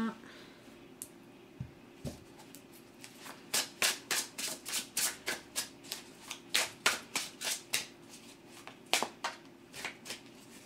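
Tarot cards being shuffled for a reading, a rapid series of crisp riffling flutters and soft slaps from hands close by, repeating in quick bursts.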